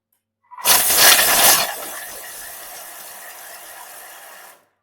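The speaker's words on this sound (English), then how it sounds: "So into the Thermomix that goes on a few seconds." A Thermomix grinds almonds, opening with a loud, harsh burst of gritty churning for about a second, then settling into a quieter, even whirring that runs for a few seconds and stops abruptly.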